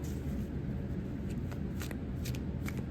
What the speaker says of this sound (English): These are really hard to shuffle. They're so big.